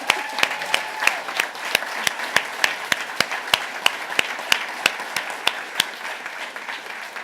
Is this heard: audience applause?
yes